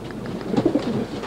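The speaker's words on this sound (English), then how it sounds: "That's a lovely pigeon" A pigeon coos in a loft, a short soft burst of low throaty cooing, close and clear against a quiet background.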